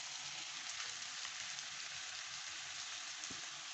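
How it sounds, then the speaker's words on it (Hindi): Cumin and salt fry in a pan for chicken karahi, giving a soft, even hiss of sizzling oil that stays steady and fairly quiet, with a faint tap near the end and no talking. "ज़ीरा और नमक डाल के इसको हम भूनेंगे।"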